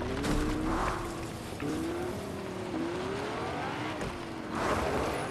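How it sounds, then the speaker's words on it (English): Car engine in a video game revving and shifting through gears, a steady rising and falling whine with brief swells of tire or road noise, no talking. "I'm gonna drive up my car."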